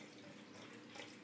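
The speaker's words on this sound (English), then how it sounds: "we're pouring a 140 milliliters of washing soda solution" Washing soda (sodium carbonate) solution, about 140 milliliters, poured in a steady faint liquid stream with a soft continuous splashing hiss, brief and alone.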